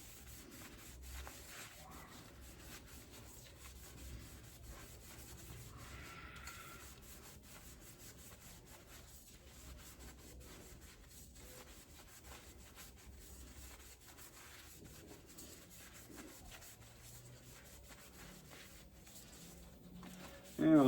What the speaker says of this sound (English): Now we'll do the same thing with the switch band. Mostly washing the inside because that's the part that's going to actually be sticking to epoxy.